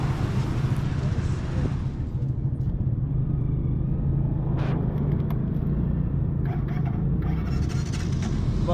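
New Bajaj CT125 motorcycle with loose compression running, its engine giving a steady low idle rumble close by, with a few brief sharp mechanical clicks and handling noises over it.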